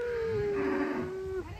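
A cow at a family home in Udupi gives a single long, steady moo lasting over a second, close and loud, then breaks off into quieter background.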